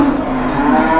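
Jumbo cattle at the Boyolali cattle market in Java moo in a long, steady, loud call that fills the whole moment, close by and without any talk.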